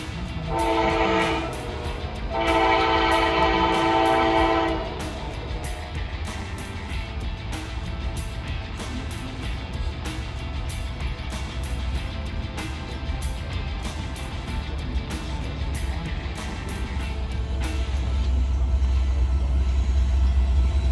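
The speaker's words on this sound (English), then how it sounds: "Let's watch this thing slam the diamonds here." A train horn blasts twice, then a long Norfolk Southern freight train rolls across a railroad diamond, rapid rhythmic clacking of wheels over track joints, loud and close.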